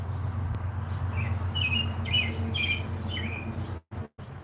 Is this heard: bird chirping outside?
yes